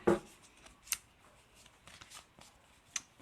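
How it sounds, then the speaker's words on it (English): Tarot cards from a Lovers Tarot deck being shuffled at close range, with a sharp riffle at the start and softer scattered card rustles and flicks after it, in an otherwise quiet room. "we're shuffling the tarot cards to start with"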